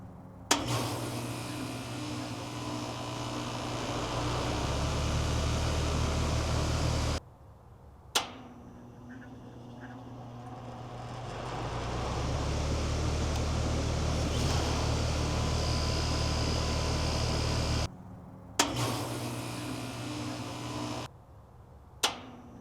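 A solar-powered air conditioner fitted with an EasyStart soft starter hums into operation, a steady low drone of compressor and fan broken by a few abrupt stops and clicks as it cycles, faint and mechanical.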